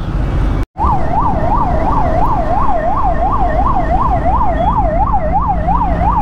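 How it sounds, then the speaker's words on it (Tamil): An ambulance siren wails on a Chennai road, with a loud, close, rapidly rising and falling tone repeating steadily over traffic rumble after a brief dropout at the start. "அதே மாதிரி ஆம்புலன்ஸ் வந்துச்சுன்னா தயவு செஞ்சு வழி விடுங்க"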